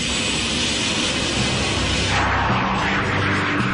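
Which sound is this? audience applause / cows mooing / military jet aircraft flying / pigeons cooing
military jet aircraft flying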